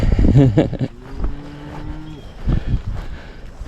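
A cow on an Appalachian Trail farm crossing gives a short, deep moo up close, followed by a longer low drawn-out call with rustling and outdoor background noise.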